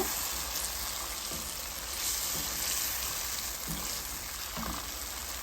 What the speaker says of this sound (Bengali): এখন আমি এই যে পনিরগুলো দিয়ে একটু কষিয়ে নেব